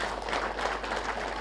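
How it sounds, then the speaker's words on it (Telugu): An audience at a Telugu youth meditation program applauds the host Ramu with steady, dense clapping. It sounds moderately distant and fairly quiet over a low hum. "ఫస్ట్ రాము గారికి అందరు చప్పట్లు కొడదాం"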